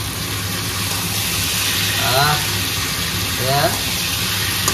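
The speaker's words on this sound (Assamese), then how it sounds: "গেছটো মিডিয়াম কৰি প্ৰায় 3 মিনিটমান সময় ধুনীয়াকৈ ভাজি ল'ম।" Jackfruit pieces and broiler chicken frying in a pan on medium heat, a steady broadband sizzle throughout with two short voice-like sounds cutting in over it.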